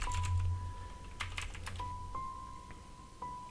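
Computer keyboard typing a username during an Ubuntu setup on Windows, a quiet run of irregular key clicks over a faint steady electronic tone and low background hum, no speech.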